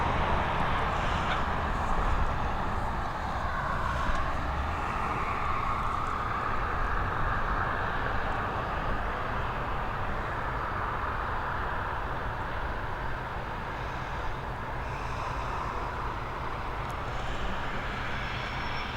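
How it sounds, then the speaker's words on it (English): An ATR 72-600 turboprop airliner taking off at Dublin Airport, a steady distant propeller and engine roar with a broad whooshing drone that slowly fades as it climbs away. "There we go, by the ATR 72600 series,"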